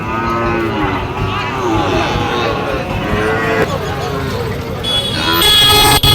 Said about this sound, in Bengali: তাহলে একসঙ্গে এই পাঁচটি গরু দেখলেন